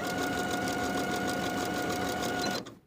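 A sewing machine runs steadily, topstitching the slanted pocket edge of a summer jumpsuit. Its fast, even mechanical whir holds for over two seconds and then winds down to silence.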